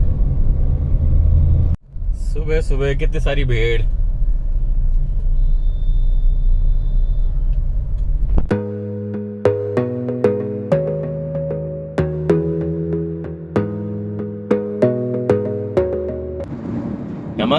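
An Indian rickshaw vehicle's engine rumbles loudly and close with a low, throbbing drone, followed by a series of repeated harmonic tones in a steady pattern, while someone briefly speaks over it.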